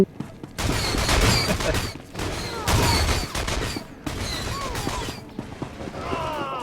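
A trooper fires in Star Wars: The Old Republic, with loud bursts of rapid blaster fire in several volleys separated by short gaps, and the last burst fading into ringing tones.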